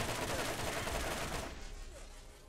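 Rapid automatic gunfire from a fast-firing weapon in the shooter game Borderlands, a dense continuous burst that fades and thins out toward the end.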